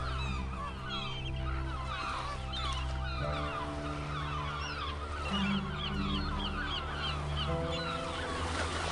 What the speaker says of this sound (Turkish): Alanda bulunan yüzlerce martı ve sakarmeke kuşları